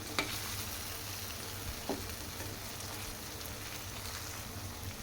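Okra curry cooks in a pan with freshly added chopped coriander, a soft, even sizzle and crackle holding steady, broken by a couple of faint clicks from stirring.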